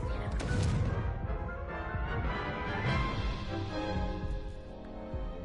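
A Confringo blasting spell in the Hogwarts Legacy video game bursts with a loud crash and rumbling impact, followed by further booming clatter as a voice calls out spells over the noise.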